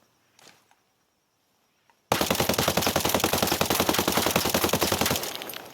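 Rapid automatic AK rifle fire aimed at a wall in Ghost Recon Breakpoint, a loud sustained burst of evenly spaced shots lasting about three seconds after a quiet start with a few faint clicks, then tailing off.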